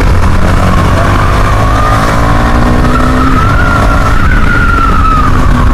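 A superbike's exhaust roars loudly and continuously on the road, a dense, saturated engine blare with a rising whine and no pauses.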